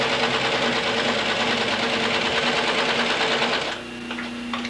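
Sewing machine stitching wet leather counters with heavy thread, a dense steady loud mechanical whir with rapid needle rhythm that drops off near the end, leaving a quieter hum.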